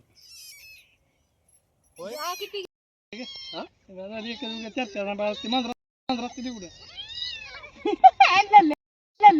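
Small kittens meow over and over at close range, high, wavering cries in short bursts separated by brief pauses, growing busier and louder toward the end.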